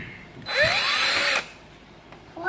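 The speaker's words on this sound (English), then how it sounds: "So I'm just using a drill here, I'm just lazy." Power drill backing out the screen screws on an ASUS F556UA laptop, one loud whirring burst of about a second, close up in a quiet room.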